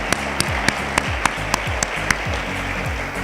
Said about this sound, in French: je voudrais que l'ensemble de la salle puisse s'applaudir